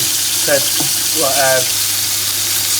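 Chicken pieces sear skin-down in a hot pan on the stovetop, a steady, loud broadband sizzle running throughout, with a few faint voiced murmurs surfacing briefly in the middle.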